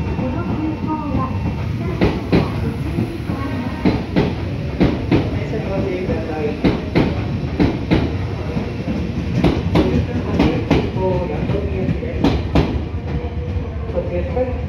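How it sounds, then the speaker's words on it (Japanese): An express train rolls into Kanayama station in Nagoya with rhythmic clattering wheels and a steady rumble, while a Japanese station announcement plays over it. "電車が参ります。"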